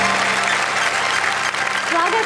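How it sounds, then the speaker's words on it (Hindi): A TV studio audience claps loudly and continuously in a dense, sustained burst of applause during a comedy stage show. "पूरे देश के लिए घनघोर तालियां बजाने का वक्त है"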